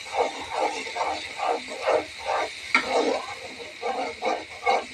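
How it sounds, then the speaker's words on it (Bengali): Shrimp fry in a pan, with a quiet background sizzle broken by a steady rhythm of short bursts as the pan is stirred, close and without speech. "একটুখানি চিংড়ি মাছটা ভেজে নেব।"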